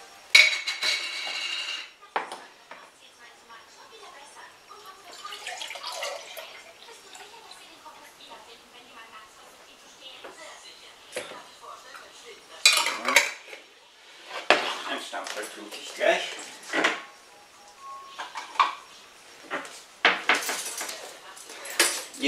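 Garlic lemon juice being filled into containers, with clinking glass and cutlery clatter, liquid pouring and several sharp knocks growing louder toward the end, close by with no talking.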